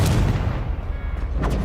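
A fire spell, Incendio, is cast in the Hogwarts Legacy video game, giving a dense, booming, rumbling blast that carries steadily through the clip with a fresh burst near the end.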